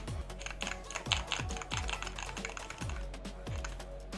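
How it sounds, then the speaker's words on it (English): Clicky game controller buttons are pressed in quick, uneven bursts of sharp taps close to a condenser microphone, clattering steadily with no speech. "This one has really clicky clacky buttons."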